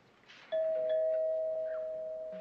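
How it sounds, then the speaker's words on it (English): A doorbell rings indoors with a single clear electronic tone that sustains and slowly fades, moderately loud against a quiet room, with no talking. "That's the doorbell."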